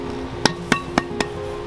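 Four sharp, evenly spaced taps ring out on a glitter-coated glass tumbler, each a bright, close knock with a brief glassy ring over quiet background.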